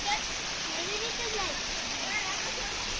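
Steady broadband rush of flowing water at the Naneghat waterfall near Pune, a constant hiss-like roar with a faint voice speaking over it.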